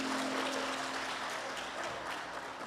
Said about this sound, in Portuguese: dá um aplauso bem forte para Jesus